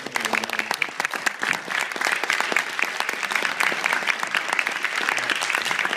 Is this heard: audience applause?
yes